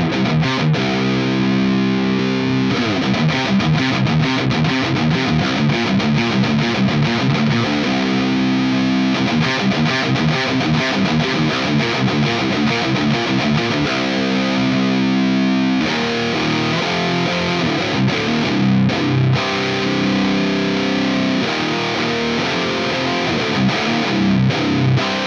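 Heavily distorted metal guitar riffing through a GUP Tech Mad Chiou pedal, with the tone changing as its EQ is switched on and off, loud and continuous with no talking.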